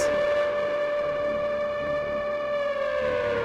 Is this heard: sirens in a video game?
yes